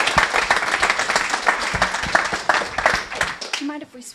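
Audience applause for the UserTesting CEO at a Startup Grind Scotland evening talk: steady mid-room clapping that holds for several seconds before tapering off as a voice begins to speak.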